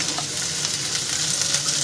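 Carrots frying in a pan for Maggi noodles, giving a dense, continuous crackling sizzle that stays loud and even throughout, with no voices.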